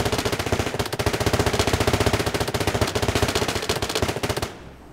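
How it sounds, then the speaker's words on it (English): A fully automatic pistol in the VR Funhouse video game fires a long, rapid, evenly paced burst of loud shots that stops abruptly near the end, with no talk over it. "Now we've got a fully automatic pistol that as I shoot does fully auto, and I release, it stops shooting."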